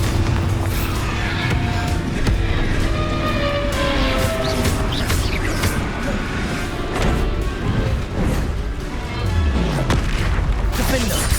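Bombarda spell blasts in Hogwarts Legacy boom and crash repeatedly amid dense, loud battle noise and game music, with overlapping impacts filling the whole stretch.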